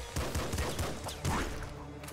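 Explosions and gunfire in the video game Nuclear Throne, a rapid run of booming blasts and shots, fairly quiet, with two heavier hits standing out.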